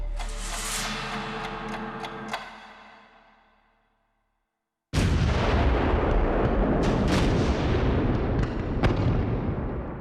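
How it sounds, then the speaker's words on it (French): Battleship artillery from a naval squadron fires in heavy broadside salvos at Mers El Kébir, loud booming blasts that decay into silence and then return as a dense, sustained barrage of overlapping cannon shots. "L'escadre de l'amiral Somerville lâche l'une des plus grandes bordées de canons de l'histoire de la marine de guerre."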